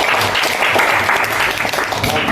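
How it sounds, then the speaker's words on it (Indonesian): Classroom applause during a coding lesson, a dense, steady patter of many hands clapping together throughout, loud and close, with a few voices mixed in. "tepuk tangan dulu"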